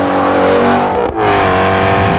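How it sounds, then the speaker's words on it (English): A Ford Mustang Shelby GT350 in track mode revs hard, with a loud, raspy exhaust note climbing through the revs, a brief dip at a gear change, and the roar rising again close by. "we're in track mode, that's why you can't hear me over this exhaust."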